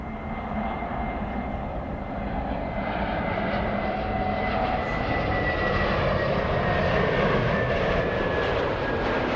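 Airliner jet engines at Los Angeles airport during takeoff, a steady, loud broadband roar with a faint whine, sustained and unbroken.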